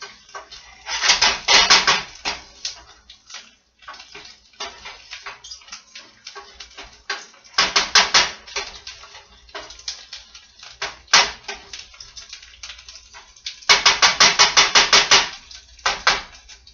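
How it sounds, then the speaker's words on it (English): Rice being stirred in a pan to toast it, with bursts of scraping and clattering against the pan at irregular intervals, close and moderately loud, separated by quieter gaps. "And you're just going to stir it because you want it all to brown."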